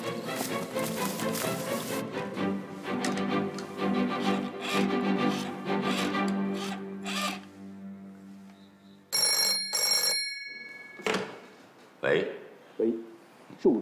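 An old telephone bell rings in a wartime spy drama, a loud rapid jangle for about two seconds followed by further rings, before people begin talking.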